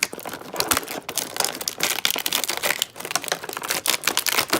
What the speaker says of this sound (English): maybe turn it up because you enjoy the plastic noise